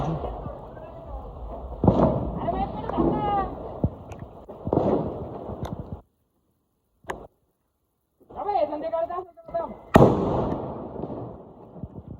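Sharp pops and crackling bursts of Diwali firecrackers ring out intermittently amid background noise and heavy rain, with quiet gaps and a loud crack near the end.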